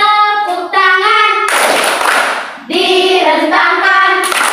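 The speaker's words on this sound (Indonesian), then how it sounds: "Tepuk tangan." Children in a classroom sing a clapping song, with a loud, dense burst of hand claps breaking in between stretches of sung voices.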